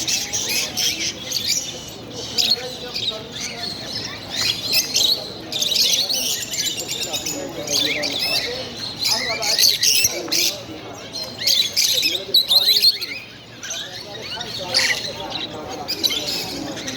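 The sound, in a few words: pet birds chirping at Dammam market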